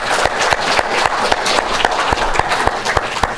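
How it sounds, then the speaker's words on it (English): An audience at a dahlia virus research event claps in a big round of applause, dense crowd clapping with sharper individual claps landing in a loose, roughly regular beat throughout. "Let us give them a big round of applause."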